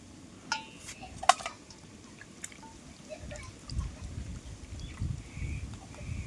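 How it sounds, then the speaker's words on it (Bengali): Chopped meat is washed in a bowl of water in a home kitchen, with soft sloshing and swishing that grows in the second half, plus a few faint clinks of a metal vessel. "তো মাংসগুলোকে আমি ধুয়ে নিই।"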